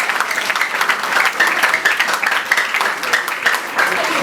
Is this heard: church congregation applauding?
yes